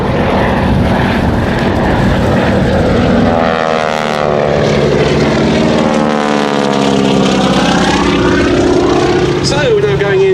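Propeller aircraft of a wing-walker display team fly straight toward the crowd at an air festival at Duxford. The engines build into a loud, rising roar with a changing pitch as they pass close overhead, while a commentator talks over them.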